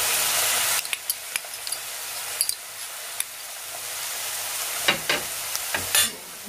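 Soy sauce and tomato ketchup being stirred in a hot pan for soya Manchurian, with a few scraping spoon strokes and soft sizzling clicks at close range, no talk.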